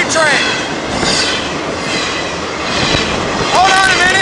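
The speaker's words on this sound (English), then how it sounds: "this is, in fact, a freight train" A freight train rumbles past nearby in a steady, loud roar, with metallic wheel squeal rising at the start and again near the end.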